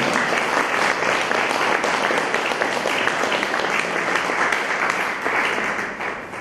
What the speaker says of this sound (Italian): chiedo di fare un bel applauso